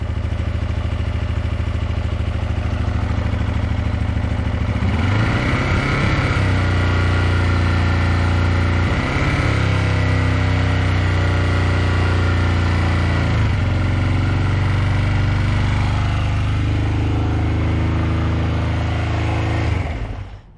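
A Honda CB125 Twin motorcycle engine runs steadily on full choke, a loud continuous idle near the microphone with slight shifts in pitch over about twenty seconds and no talking.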